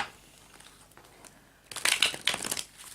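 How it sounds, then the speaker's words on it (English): Tarot cards are shuffled by hand, with a faint riffle early on, then a burst of loud, crisp crinkling and slapping card noise in the last half, close and alone. "while I'm shuffling the cards"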